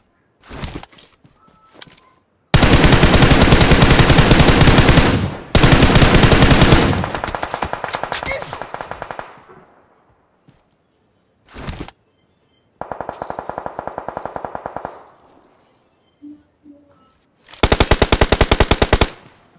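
An MG3 machine gun fires in a video game, loud long sustained bursts of rapid automatic fire broken by short pauses and a couple of brief volleys, with no talk.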